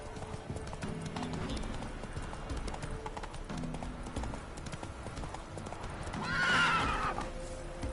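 Hooves of the horse Roach clip-clop steadily at a gallop in a video game, with a loud whinny near the end and faint game music underneath.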